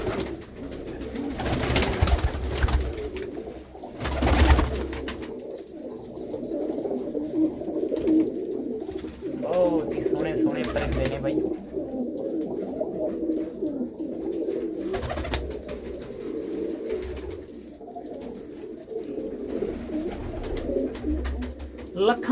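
Pigeons kept by a fancier in a Punjabi village coo repeatedly in a low, throaty murmur, several birds overlapping close by, with a few louder bumps and occasional faint voices in the background.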